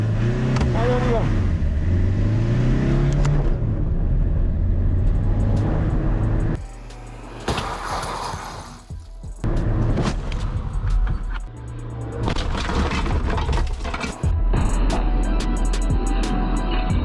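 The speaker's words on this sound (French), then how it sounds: "On va rouler à 50 km/h, on va voir les déformations de la R19 et de la Golf." Renault 19 and Volkswagen Golf 3 colliding at 50 km/h, a loud car engine approaching, then an abrupt impact and dropout before the engine and road noise return, with voices talking over parts of it.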